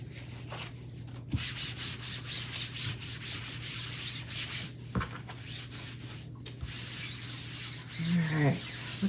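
Stiff scrubbing of a chalk transfer screen being cleaned: a steady, close, rasping rub that runs almost continuously, with a few brief knocks and a short squeak near the end.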